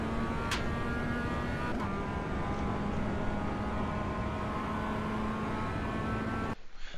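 A Mazda MX-5 race car in the iRacing sim at Oulton Park gives a steady, droning engine note under throttle with a faint change in pitch, then cuts off abruptly near the end.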